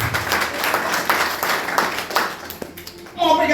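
A congregation at a Christmas church service claps loudly and continuously, a busy wash of many hands with voices mixed in, tapering near the end as a voice takes over.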